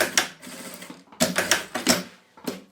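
A sewing machine stitches bias binding onto a fabric toy-storage basket in short close bursts, rapid rattling runs separated by brief pauses.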